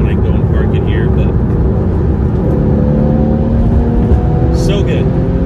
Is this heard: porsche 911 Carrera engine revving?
yes